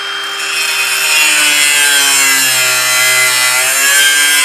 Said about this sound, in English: angle grinder it is.